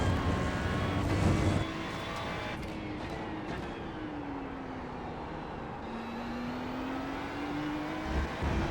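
A Ferrari 296 GT3 race car engine at Hockenheimring in iRacing, a sustained engine drone whose pitch dips and then climbs steadily as the car accelerates, with brief louder bursts near the start and no talk.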